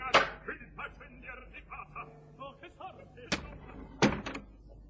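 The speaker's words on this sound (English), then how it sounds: "Come on, open the box door" A box door opening in a radio drama, a sharp wooden latch click and knock standing out among soft voices, followed by two more distinct door thuds near the end.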